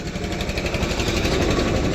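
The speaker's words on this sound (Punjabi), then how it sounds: "ਤਿੰਨ ਸਿਲੰਡਰ ਇੰਜਨ ਇਹਦਾ" A 1973 Escorts 3036 tractor with a three-cylinder engine runs nearby, giving a steady, close rumble with a fast, even pulsing rhythm throughout.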